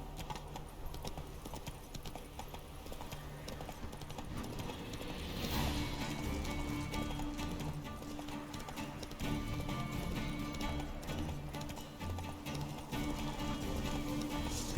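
Horse hooves clip-clop at a steady galloping rhythm in The Witcher 3 Wild Hunt, running continuously and fairly close under the game's ambient sound and music.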